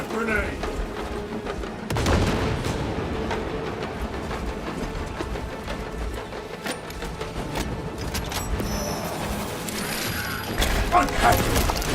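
Grenade blasts and heavy gunfire in the Space Marine 2 game, a continuous barrage of booming explosions and rapid shots with mechanical clatter, while voices call out over the combat.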